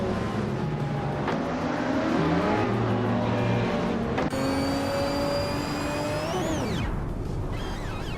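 Race cars in a racing video game, including a 2009 Peugeot 908 HDI FAP, drone and rev as a pack with rising and falling engine tones, then a loud car sweeps past close by and the sound drops away, with no talking.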